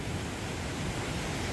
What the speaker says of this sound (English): You can hear all those other waterfalls over there.